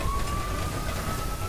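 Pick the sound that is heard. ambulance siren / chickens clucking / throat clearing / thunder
ambulance siren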